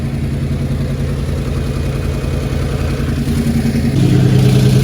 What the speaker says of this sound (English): So the truck's running still. It doesn't sound bad.